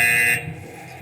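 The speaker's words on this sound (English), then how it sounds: "Buzzer" A loud electronic buzzer at a wrestling event blares briefly and then cuts off, leaving a noisy arena background.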